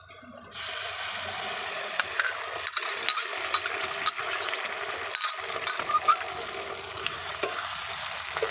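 Spices sizzle in hot oil over fried potatoes in a pan, with a steady, close crackle and repeated scraping stirs and clacks of a spatula throughout; no one speaks.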